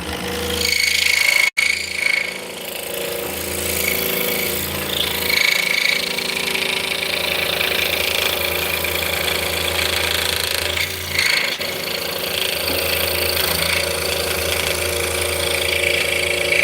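A power saw runs steadily right after a quick blade change, a loud continuous motor drone with a brief cut-out near the start, then carrying on without pause.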